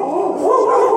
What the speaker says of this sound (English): these dogs, they hear something out there in the middle of the jungle, and so they go off